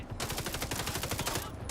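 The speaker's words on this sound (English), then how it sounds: "Okay, that one actually has recoil, the submachine gun." Submachine gun in a video game firing a rapid continuous burst of sharp, loud shots, evenly spaced for over a second before cutting off.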